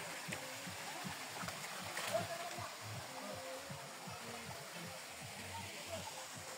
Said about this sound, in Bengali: এটা হচ্ছে রিছাম ঝর্ণা